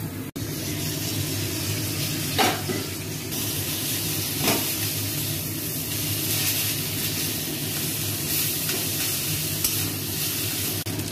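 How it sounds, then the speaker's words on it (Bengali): A fish head fries in oil and a little water in an uncovered pan, a continuous close sizzle with occasional scraping stir noises and a sharp click at the start. "তারপরে ঢাকনাটা খুলে মাছের মাথাটা ভেজে নেবো ভালো করে"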